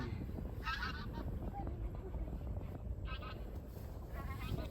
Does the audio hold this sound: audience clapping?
no